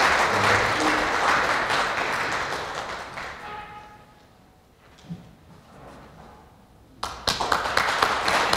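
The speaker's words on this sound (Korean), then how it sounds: "여러분, 이종찬 이사장님을 따뜻한 환영의 박수로 맞이해 주십시오." Audience applause at a foundation sponsors' year-end gala welcoming a speaker, dense clapping that fades away to near quiet, then a fresh burst of clapping at the end.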